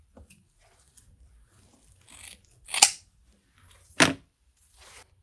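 Scissors snip through material on a Halloween ghost wreath, giving two sharp, close crunching cuts a second apart after quieter handling sounds.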